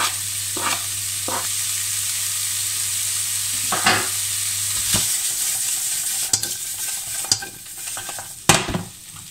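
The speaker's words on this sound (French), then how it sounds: "je les fais revenir 2-3 minutes. Que l'ail et la crevette prennent un petit peu de goût" Garlic and shrimp sautéing in a hot pan give a loud, continuous hiss close by, with a few scraping stirs and clatters in the second half and no voices.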